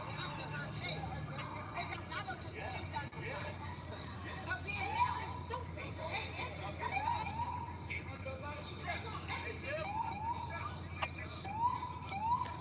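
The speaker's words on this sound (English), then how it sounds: "That is a sweet siren." An emergency vehicle siren wails faintly in the distance at a trash fire scene, rising and falling tones under nearby people talking and background crowd noise.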